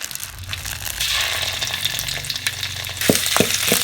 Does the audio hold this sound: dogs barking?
no